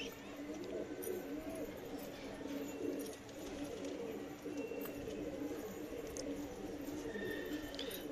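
Pigeons cooing near their young, soft low coos blending into a steady noisy background, close but not loud, with no clear talk over them.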